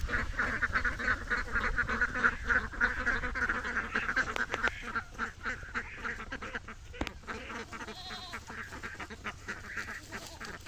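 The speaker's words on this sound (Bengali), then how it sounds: "আর হাঁসগুলাও চলে আসছে" A flock of ducks quacks near a rural homestead where goats are kept, with dense, overlapping calls that run almost without pause, loudest early and a little sparser toward the end.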